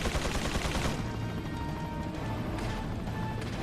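Mike fires a gun in Resident Evil 4, a dense burst of loud gunfire over heavy game noise, continuing in a sustained roar across the moment.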